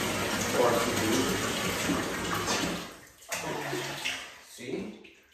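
Running water from a shower for a Yellow Labrador Retriever puppy's first bath, a steady hiss of spray that breaks off briefly and then resumes in shorter bursts.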